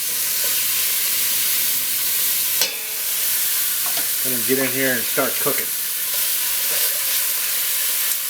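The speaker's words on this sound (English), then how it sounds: "when this chicken hits the pan it should start to sizzle." Chicken pieces for a simple chicken and barley soup sizzle and fry in a hot pan, a steady loud crackling hiss throughout, briefly joined by a voice talking midway.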